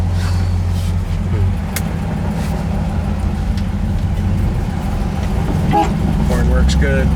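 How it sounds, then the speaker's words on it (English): The engine of a 1954 Mercury Monterey runs at a smooth, steady idle close by, a continuous low hum with a few faint clicks over it, and someone talks over the engine. "Engine sounds nice and quiet."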